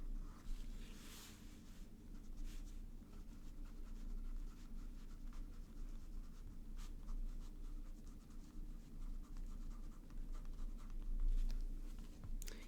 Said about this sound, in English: So you can sort of do these loops and big writing.